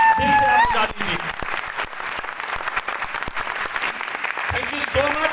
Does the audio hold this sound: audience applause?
yes